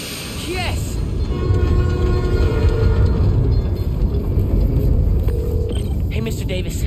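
A subway train powering up and running in the video game Spider-Man Miles Morales, a loud continuous rumbling roar with a rising electric whine and faint horn-like tones, steady and close throughout.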